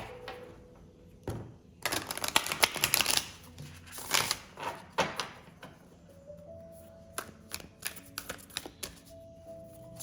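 Oracle cards being shuffled by hand, producing bursts of soft riffling and flicking with light taps and pauses between, close and fairly quiet, with no talking.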